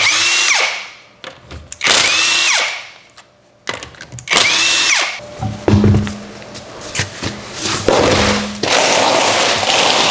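Bursts of an impact wrench or power tool removing the wheel from a Chrysler 200 during rear wheel bearing work, several loud whirring runs with gaps between them, plus clanks of loosened parts.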